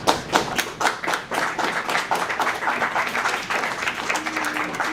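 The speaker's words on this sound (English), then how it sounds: "That's a clap." Scattered audience applause after a student's speech at an eighth-grade policy summit in a school hall, a few seconds of moderately loud clapping from a small crowd, uneven and thinning in places, with faint voices underneath.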